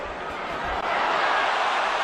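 A boxing crowd roars steadily after a solid left hand lands on Morales, a dense continuous wash of cheering that swells slightly toward the end.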